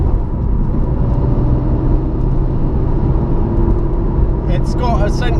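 A Porsche 964 with a converted gearbox and track-day tyres spins its wheels on a wet road. Heard from the cabin, the engine makes a close, loud, steady drone and rumble, with a brief higher whine near the end.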